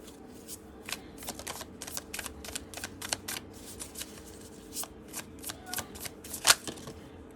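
Tarot cards being shuffled and riffled, a steady run of soft papery flicks and slaps at close range, with one sharper snap near the end.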